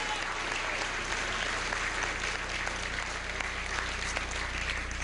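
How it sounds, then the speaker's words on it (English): Crowd applause for a Pennsylvania candidate at an election-night gathering, a continuous dense roar of clapping at even loudness from start to finish, with a low hum beneath. "Give him a round of applause."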